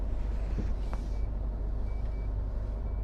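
A car's speed warning chime gives a few faint, short, evenly spaced beeps over a constant rumble of road and engine noise while driving.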